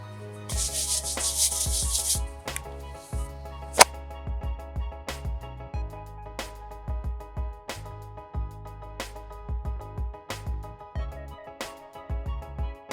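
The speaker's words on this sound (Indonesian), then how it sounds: "Gilas adonan dengan ketebalan sekitar 1 sampai dengan 2 cm sesuai selera." Dough gets rolled out on a floured table, with a rolling pin making steady, repeated rubbing strokes close by and a few light knocks between passes.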